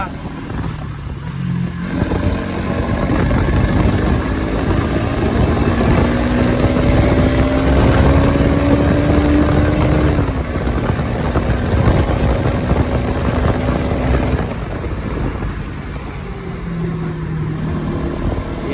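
A Bajaj Pulsar NS200 BS6 motorcycle engine drones loudly and revs, its pitch climbing and holding before dropping back, with voices faintly underneath.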